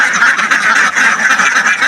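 A flock of farm ducks at a pond, quacking continuously and loudly in a dense overlapping chorus, close by, with no talking.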